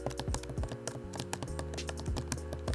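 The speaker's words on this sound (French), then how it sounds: "le clavier fait maintenant un peu moins de bruit" Rapid, steady typing on a 2018 MacBook Pro keyboard, a soft clicking patter of many keystrokes close by, with a low hum underneath.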